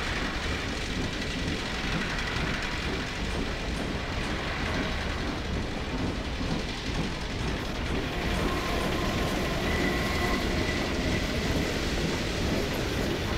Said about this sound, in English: There's trains in here.